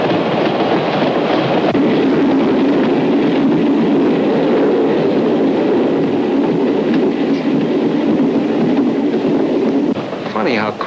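Train riding out of the city through farm country, a loud continuous rumble and rattle of the cars on the rails, steady for the whole span, easing off briefly near the end.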